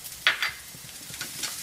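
Chopped garlic goes into a sauce in a pan with a soft sizzle. A couple of sharp utensil scrapes follow, then quieter stirring and bubbling.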